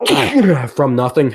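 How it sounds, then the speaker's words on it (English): A single sharp sneeze bursts out near the start, quickly followed by close conversational talk from more than one person. "Sneezing and like saying bless you?"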